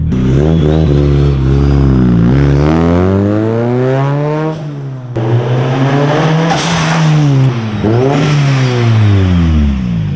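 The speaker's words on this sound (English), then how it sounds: "from the downpipe back, it is full titanium exhaust" A tuned car with a full titanium exhaust from the downpipe back, running on low boost, revs hard through repeated rising and falling sweeps, loud and close, with a brief pause before pulling again.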